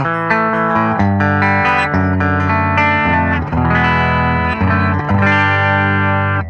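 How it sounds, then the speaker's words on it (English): Dry electric guitar through a Fender Pano Verb amp with classic blackface tone, with ringing, sustained chords played steadily and loudly, no talking over them. "It's that classic old school Fender blackface tone."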